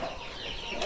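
Flock of young chickens on a rural Vietnamese homestead, heard as faint, close clucking and light rustling during a brief moment, with no voice over it.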